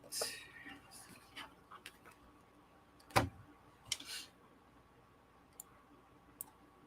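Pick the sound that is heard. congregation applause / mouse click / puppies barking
mouse click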